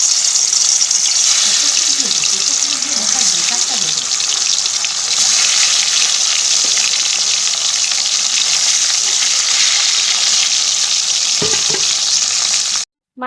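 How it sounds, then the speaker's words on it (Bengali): Small tengra fish fry in very hot mustard oil, giving a loud, bright, continuous sizzle with a few clinks and knocks of a utensil near the end. "এবারে একে একে মাছগুলো ছেড়ে দেবো।"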